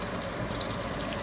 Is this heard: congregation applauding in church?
no